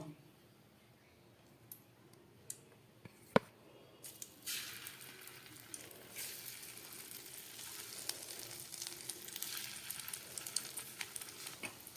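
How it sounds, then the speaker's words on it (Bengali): Potatoes dropped into leftover chicken oil in a pan set off a sudden bubbling hiss after a few quiet clicks, settling into a continuous moderate sizzle with scattered crackles, no talking. "এবারে এই চিকেনের তেলের মধ্যেই আমি আলুগুলোকে ভেজে নেব"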